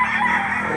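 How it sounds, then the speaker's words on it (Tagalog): A chicken crows in a brief, loud burst that fills the short moment, with no other sound around it. "Manok lang ito, bossing."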